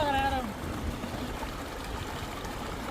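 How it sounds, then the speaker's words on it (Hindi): Water runs outdoors on a rural farm during paddy transplanting as hands and a face are washed. The flow is a faint, steady rush, and a voice speaks briefly at the start. "जाओ हाथ मुंह धो, वहाँ पे धो"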